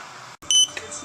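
A LiPo battery charger beeps as charging completes, a couple of short electronic tones heard close up in a brief moment.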